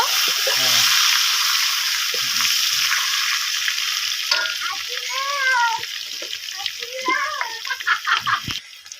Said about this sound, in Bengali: আলুগুলো লাল লাল করে এখন ভেজে নেব।